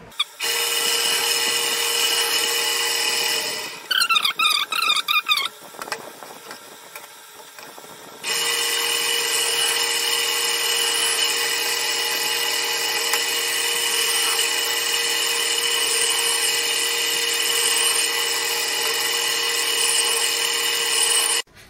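A drill bores 10 mm holes into a metal strip, a loud sustained high-pitched whine with a short pause and stuttering bursts partway through before the steady drilling resumes and runs long.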